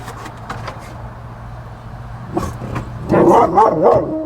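A dog barks in sharp, close yips, scattered at first, then a louder burst of rapid barking near the end over a low background hum.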